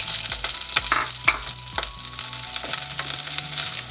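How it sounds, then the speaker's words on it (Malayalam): Mustard seeds sizzle and crackle in hot oil in a pan, a steady close frying hiss broken by sharp little pops and some stirring scrapes, with no talking. "ഇനിയിപ്പോൾ കുറച്ച് കടുക് ചേർത്ത് കൊടുക്കാം"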